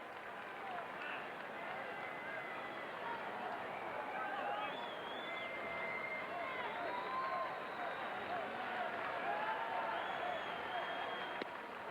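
A sellout Fenway Park crowd at a Rangers versus Red Sox baseball game cheers steadily to pump up Jose Offerman, a continuous broad roar of voices and clapping sustained throughout with scattered whistles on top.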